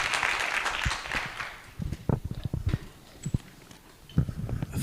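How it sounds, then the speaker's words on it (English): Conference audience claps for an arriving speaker, a brief burst of applause that quickly thins into scattered individual claps and footstep-like thumps, fairly quiet and close. "Let's give him an applause as he comes."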